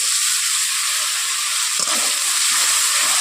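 A little water goes into potato and spices frying for a vegetarian aloo dum, giving a loud, dense, steady sizzle with a steamy hiss that carries through, plus a brief bump in the middle.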